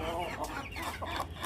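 A parrot-beak rooster attacks chicks on a rooftop aviary, producing agitated clucks and sharp squawks in a brief, close, busy flurry.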